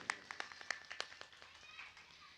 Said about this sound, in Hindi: एक बार ताली बजा दीजिए मोदी जी के लिए